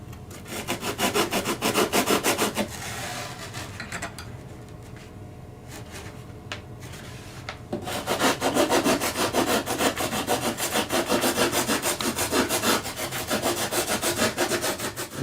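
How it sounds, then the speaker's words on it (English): Sandpaper rubs rhythmically against a foam model aircraft wing being shaped for an offset bellcrank horn, brisk back-and-forth strokes that pause briefly midway and then resume, close and clear. "So we're going to sand away a little more for that."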